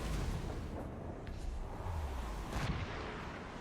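Ship cannons firing in the naval combat of the video game Assassin's Creed Rogue: low, rumbling booms under a constant wash of wind and sea noise. The blasts are muffled and merge together rather than standing out as sharp single shots.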